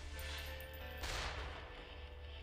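A rocket-like shot from an iridescent assault rifle in Borderlands 2 goes off as one loud burst of blast at about the midpoint. It rises over a steady game hum of gunfire-like ambience.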